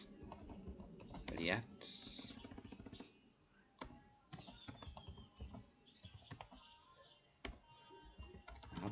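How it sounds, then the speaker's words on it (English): A command being typed on a computer keyboard, quick close key clicks in uneven bursts, with a person talking quietly over the typing. "You type npx create"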